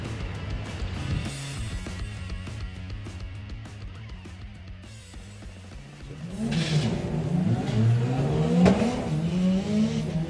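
Drag racing car engine at a doorslammers drag racing event, idling and burbling at first, then revving hard and accelerating loudly from about six seconds, close and dominant with no talk.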